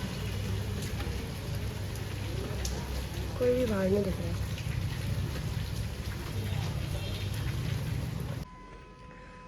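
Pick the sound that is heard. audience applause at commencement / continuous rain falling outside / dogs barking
continuous rain falling outside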